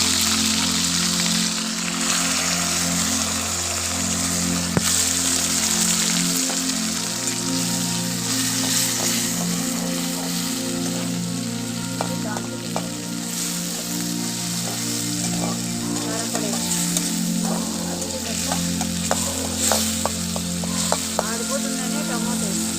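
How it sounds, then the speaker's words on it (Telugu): Tomatoes, mustard seeds, cumin and curry leaves fry in hot oil with a steady, crackling sizzle that runs throughout, spattering brightly with occasional louder pops and no talking. "ఆయిల్ వేసాము, తర్వాత ఆవాలు, జీలకర్ర, కరివేపాకు, టమోటాలు వేసుకుంటున్నాము."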